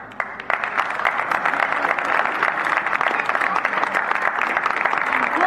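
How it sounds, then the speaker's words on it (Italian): Sustained audience applause and clapping after a live performance of an original song at a music event, dense and steady throughout with no gaps. "Ancora un applauso"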